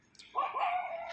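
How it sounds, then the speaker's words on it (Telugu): A dog near a house gives a single drawn-out yelping howl, close and clear, with no voices over it. "మా ఇంటి పక్కన ఒక కుక్కలు అయితే ఉన్నాయి గైస్. అవి అరుతున్నాయి."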